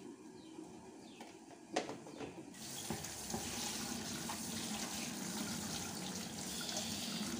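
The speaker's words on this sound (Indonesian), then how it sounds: "Kita cuci daun kelor yang sudah kita pisahkan dari batangnya tadi ya teman-teman, sama wortel kita cuci bersih." Tap water runs steadily into a sink as moringa leaves and carrots are washed beneath it, with a brief splash and clatter near the start before the flow settles into a constant close rush; faint birds sound in the background.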